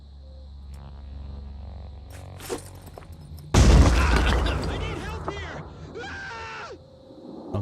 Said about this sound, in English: If we're able to sneak a grenade under there.